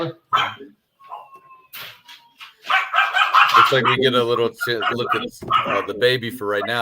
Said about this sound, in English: I'm sorry about the dogs in the background.